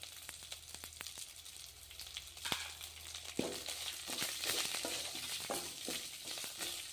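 Mint, chillies, curry leaves and coriander fry in a pan with a steady close sizzle, broken by a few sharp clicks and scrapes of stirring, with no talk.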